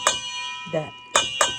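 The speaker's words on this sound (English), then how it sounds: "Sorry for that noise. I was just trying to get all the chilies out of there." Sharp metallic clinks from getting chilies out of a container, a few separate bright hits spaced unevenly and close by, with a brief spoken word between them.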